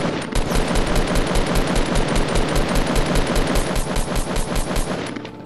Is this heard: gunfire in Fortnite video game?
yes